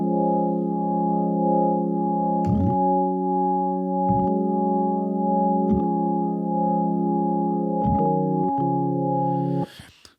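Mellow organ preset on a Nord Stage 3 with only three drawbars pulled out, playing sustained held chords with a few changes, steady and close, alone without talk, then cut off abruptly near the end.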